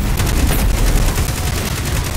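Rapid gunfire in the video game Destiny 2, a dense continuous burst of loud shots throughout with no pauses.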